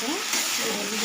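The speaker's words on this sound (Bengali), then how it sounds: "মশলাটা ভাজা হয়ে গেছে" Ground spices with chili and turmeric frying in a pan with a little water, giving a dense, steady sizzle and hiss with faint stirring, close and loud throughout a brief moment.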